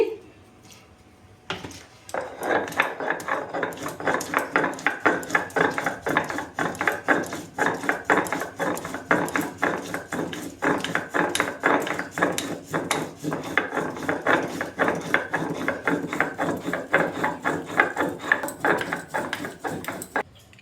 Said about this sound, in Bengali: কাঁচা লঙ্কা আর আদাটা আমি বেটে নিচ্ছি